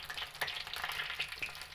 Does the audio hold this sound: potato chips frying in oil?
yes